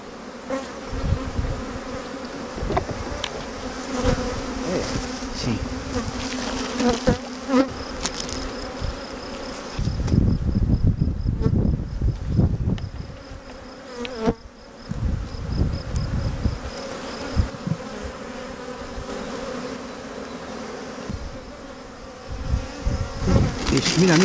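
Honey bees swarm around a beehive, their dense, continuous buzzing loud and close, rising and falling in waves, with occasional handling noises.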